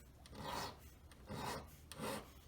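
A metal jewellery tube being filed down to a point after drawing, heard as three slow, quiet rasping strokes at an even rhythm.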